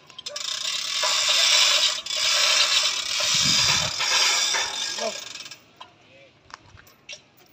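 A chain block hoist lifts large steel roof trusses on a construction site, giving a loud, steady ratcheting clatter of chain and pawl for several seconds before it stops and leaves scattered faint metallic clicks.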